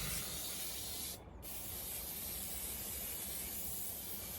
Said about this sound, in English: So I just got to get this sprayed up.